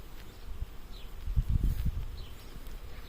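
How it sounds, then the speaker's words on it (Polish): Low bumblebee and honeybee buzzing hums close by around a flowering honey locust, swelling briefly as a bee passes near, over faint outdoor background noise. "No i tutaj też już i bąki, i pszczoły"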